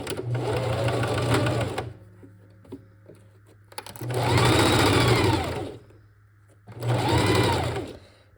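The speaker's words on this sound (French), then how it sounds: "je vais faire un point d'arrêt et faire ma couture droite à une longueur de pointe de" Sewing machine stitching a straight seam on fabric at a 2.5 stitch length, running in three loud, steady bursts separated by short pauses with faint handling noises.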